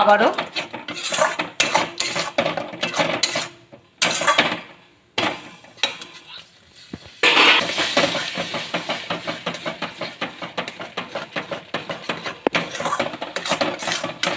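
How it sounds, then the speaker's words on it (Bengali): Spinach sautéing with spices in a pan: loud, repeated scraping and clattering of a metal spatula against the pan over a hissing sizzle, pausing briefly twice before continuing at a brisk rhythm. "মশলার সাথে পালং শাকটা আমি ভালো করে একটু কষিয়ে নেবো"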